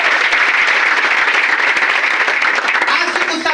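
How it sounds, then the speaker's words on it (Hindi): Loud, dense audience applause at a direct-selling leader's speech event in a packed hall, sustained for a few seconds, with voices and cheers mixed into the clapping before it thins slightly at the end. "एक बार जोरदार ताली होना चाहिए।"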